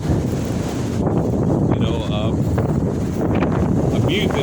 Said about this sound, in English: this is some hard wind here